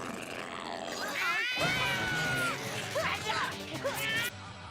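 Cartoon cat meowing in an animated show, a drawn-out wavering meow followed by shorter yowls, mixed with a character's voice and background music.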